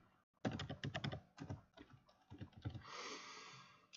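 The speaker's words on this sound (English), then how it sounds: "I am typing this on my computer instead of my phone." Someone types on a computer keyboard in quick bursts of close, crisp key clicks, with short pauses between runs and a softer rapid patter near the end.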